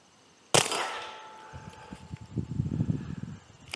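A Taurus TX22 Gen 2 pistol fitted with a flow-through suppressor fires a single sharp, muffled shot that decays over a second, followed by faint rustling and handling sounds.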